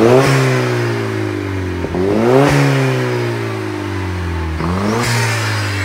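A VUHL supercar, a lightweight turbocharged manual from Mexico, starts and revs up close, its loud engine rising and falling in repeated throttle blips.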